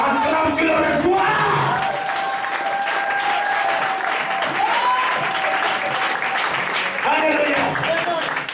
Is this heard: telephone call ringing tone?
no